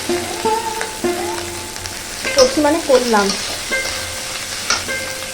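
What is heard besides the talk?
rice being fried in a pan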